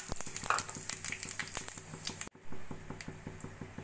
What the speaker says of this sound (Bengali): ওই তেলের মধ্যে দিয়ে দেবো জিরে, তেজপাতা, 2টো এলাচ, দারচিনি আর ফাটিয়ে নেওয়া 2টো শুকনো লঙ্কা।